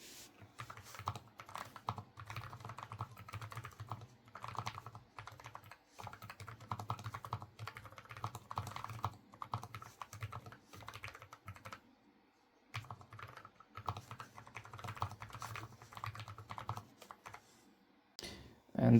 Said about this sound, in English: And then here we have the keyboard with lube.